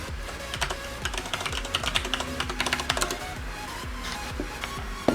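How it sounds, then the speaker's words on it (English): Quick bursts of clicking keystrokes on a computer keyboard while a password is entered for a headless Raspberry Pi 4 running Kali Linux, close and moderately quiet, ending with a sharper keypress. "type in the password again"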